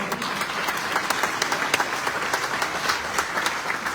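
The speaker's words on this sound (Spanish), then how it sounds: "Un fuerte aplauso para esta" An audience at a tribute event for Zelmar Michelini breaks into warm applause, many hands clapping in a steady, moderately loud patter with scattered sharper claps throughout.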